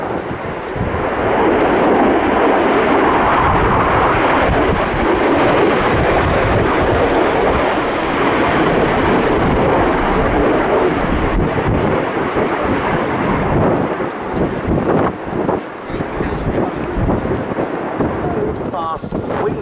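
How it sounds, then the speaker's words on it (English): Panavia Tornado jets with RB199 engines at full power, swept wing, flying past at the Royal International Air Tattoo 2023: a sustained, loud, roaring jet thunder with wind buffeting that holds steady for nearly twenty seconds. "Swept back, RB199 engines at full chat."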